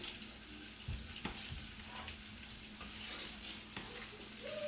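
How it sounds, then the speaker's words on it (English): Homemade chili stirred in a pot, a soft sizzle with scraping and a few spoon knocks against the pot, fairly quiet and close. "And let's give our chili a stir."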